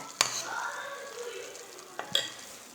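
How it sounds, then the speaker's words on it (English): A soft, steady bubbling sizzle of sugar syrup boiling in a pan, with two sharp clinks of a utensil against the pot. "this is the syrup, and it's actually bubbling and boiling at the moment"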